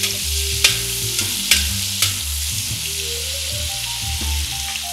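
Seafood prawns frying in a pan for Goan cuisine, a steady sizzle with several sharp scraping stirs of a utensil, close and fairly loud, with no talk.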